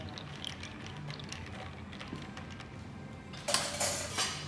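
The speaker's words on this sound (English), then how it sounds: "I'll then take a bar spoon, give a bit of a stir just to make sure that puree is all mixed in" Bar spoon stirring a ginger beer cocktail with berry puree in a glass, giving light metallic clinks and scraping near the mic, quiet at first and then a brighter burst of clinking toward the end.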